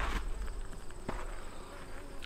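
Honey bees in an opened, boosted hive with eggs and stored bee bread, a steady close buzzing hum filling the clip without pause, with faint handling noise behind it.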